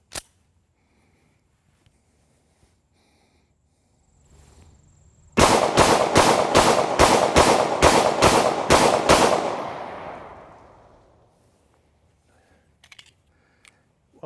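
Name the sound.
rapid gunfire from Springfield Armory SA-35 pistol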